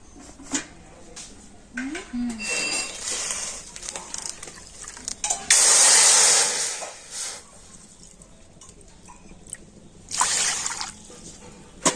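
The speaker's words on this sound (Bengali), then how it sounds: "কড়াতে প্রথমে আমি দিয়ে দেব জল তো এই বাটি মেপে আমি দু বাটি জল কড়াতে দিয়ে দিচ্ছি" Water poured from a measuring bowl into a kadai, heard as two loud, rushing splashing pours a few seconds apart, between quieter handling clatter in a kitchen, with no talking.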